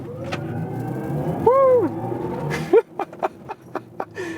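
BMW iX M60 electric SUV doing a launch-control run to 70 and then braking hard, heard as a steady mid-level drive noise with a rising whine, a voice whooping over it, then a series of short sharp thumps.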